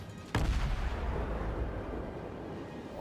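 Naval gunfire in the World of Warships game: a sudden loud boom strikes early, then a deep rolling rumble lingers and slowly fades.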